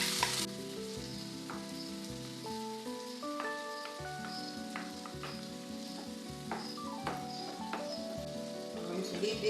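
Tomatoes frying with onions in a pan for ossobuco, a steady, close crackling sizzle with scattered pops and stirring clatter, alone without talk.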